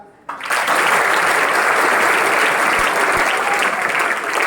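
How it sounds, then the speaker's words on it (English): Seminar audience of parents and students breaks into loud, dense applause that starts abruptly and holds steady for several seconds. "Can we have a clap?"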